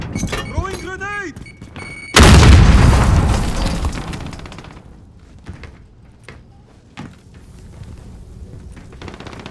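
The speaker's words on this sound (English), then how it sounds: "Throwing grenade!" A video-game grenade detonates with a sudden loud, deep boom that rolls off into a long fading rumble, preceded by a shouted voice and followed by quieter game chatter and distant effects.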